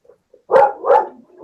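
A dog gives two quick, close barks in a row, loud and sharp, with a faint whine or yip trailing after.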